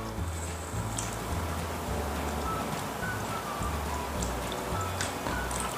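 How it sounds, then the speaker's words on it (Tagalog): Milk pours into a glass of iced Milo with ice as a continuous, close pattering trickle that holds steady throughout. "Lagyan natin ng milk."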